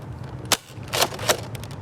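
Nerf blaster shots in a backyard Nerf war: three quick, sharp pops close by, about half a second apart, with no talk over them.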